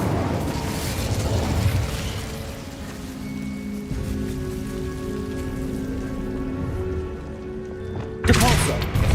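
Incendio fire spell cast in the Hogwarts Legacy video game: a steady, rushing, crackling roar with a sharp, louder burst near the end, layered over soft tonal game music.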